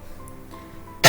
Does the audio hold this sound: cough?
yes